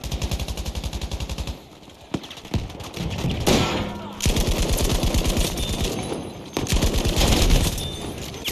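Video game gunfire in a wartime shooter with a grenade launcher: loud bursts of rapid automatic fire, single heavy shots and thumps, broken by short pauses, with dense continuous volleys later.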